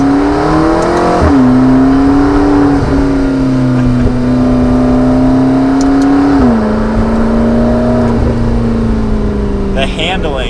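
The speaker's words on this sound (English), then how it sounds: "You can hear a little bit of the turbo noise" A 2015 McLaren 650S Spider's turbocharged engine hums steadily and loudly while driving, its pitch rising and dipping slightly as the car shifts, with a faint turbo whir on top.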